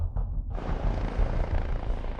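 A police helicopter flies overhead during a search near roadside woodland, its rotor and engine roar loud, steady and close throughout, with no voices.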